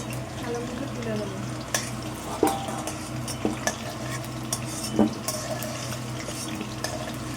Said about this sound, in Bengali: আলুগুলো হালকা ভেজে নিচ্ছি, বেশি ভাজবো না।